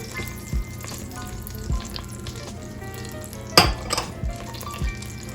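Apple cobbler ingredients sizzle in a hot pan, a steady frying hiss with a few sharp clinks and stirring scrapes near the middle, close and moderately loud with no talking.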